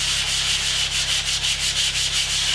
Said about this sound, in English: Because you really don't need to watch me continually sand.